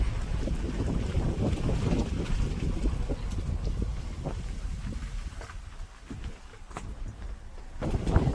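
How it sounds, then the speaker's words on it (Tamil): Strong wind in a rainstorm buffets the microphone with a constant heavy rumble and gusty roar throughout, with no one speaking. "காற்று பயங்கரமாக இருக்குங்க, மழையும் இருக்குது."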